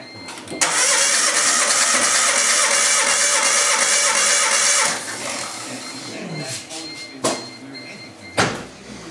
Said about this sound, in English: Alright, Marc, we're on a compression check on this thing.